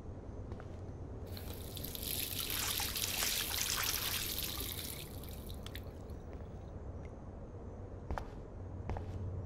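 Water gushes from a bathroom tap in the video game Life Is Strange, a steady rushing splash that swells loud in the middle and then eases to a thin trickle with a few sharp drips.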